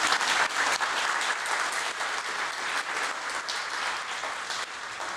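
Audience applause fills a conference talk hall, a steady wash of many hands clapping at moderate level throughout, with no voices rising above it.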